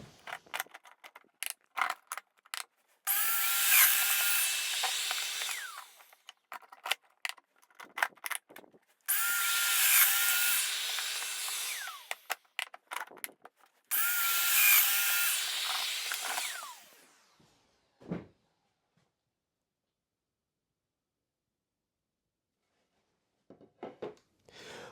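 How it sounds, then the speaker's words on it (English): Festool Domino joiner cutting mortises into stock clamped to a jig: three loud sustained bursts of motor whine, each a few seconds long, separated by clicks and handling knocks, then quiet. "passing the stock through, fixing the stock to the jig using your clamps, and then making your mortise cuts"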